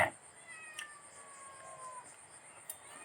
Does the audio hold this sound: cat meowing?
yes